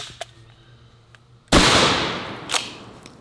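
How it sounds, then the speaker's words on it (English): A shotgun fires a 9-pellet double-aught buckshot load: one sharp, loud blast close by that rings out and decays over a second or so, with a fainter thump after it. "Let's try some good old 9 pellet double-aught buckshot."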